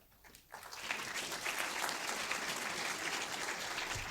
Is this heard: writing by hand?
no